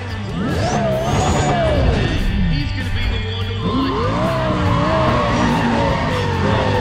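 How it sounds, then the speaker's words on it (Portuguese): A race car in Need for Speed ProStreet accelerates with nitro. Its engine note climbs and drops sharply with each gear change, loud and continuous, with rising whines over a low rumble. "Vou tentar usar um nitro entre a quarta e a quinta marcha"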